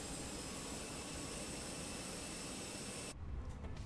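An Airbus A319's auxiliary power unit running at the gate, a steady loud broadband roar that drops away abruptly near the end, leaving quieter low rumbling, with no voices.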